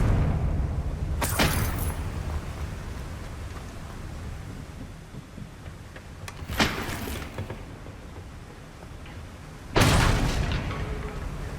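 Confringo spell blasts go off in Hogwarts Legacy gameplay: three sudden broadband explosive bursts spaced several seconds apart over a low rumbling game ambience, loud and close.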